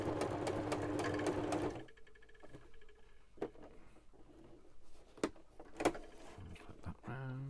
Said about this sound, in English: That's the sewing machine making that noise.